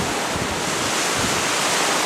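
Waves splashing over a ferry deck on a windy day near Lummi Island, a dense continuous roar of wind and water close to the microphone, with no distinct breaks.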